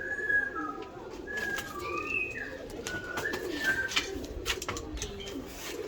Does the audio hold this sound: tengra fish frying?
no